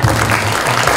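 A short burst of dense audience applause at a Buddhist inauguration ceremony for a new supreme patriarch, loud and steady throughout.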